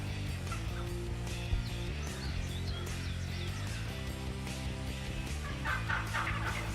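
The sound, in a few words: wild turkey gobbler gobbling in Wisconsin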